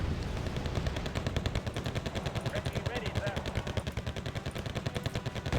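Rapid gunfire from a Challenger tank and other units in the video game Wargame Red Dragon, a dense, loud, continuous stream of automatic shots and bangs running throughout with little pause.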